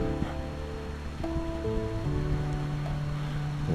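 Water flows steadily in Elk Creek below mountain grasslands, a soft continuous rush with a few faint tonal sounds over it.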